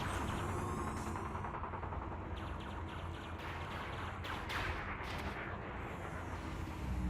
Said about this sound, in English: Trying to hit me with that flak cannon.